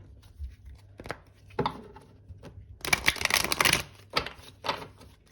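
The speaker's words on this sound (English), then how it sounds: "Okay, we're going to do one last shuffle." Tarot cards riffle and snap in quick bursts, with one longer shuffle in the middle, close and crisp against a quiet background.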